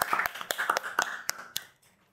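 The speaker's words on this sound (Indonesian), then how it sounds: "kasih tepuk tangan dulu dong" A handful of sparse, separate hand claps from a small group, near and fairly quiet, fading out within about two seconds.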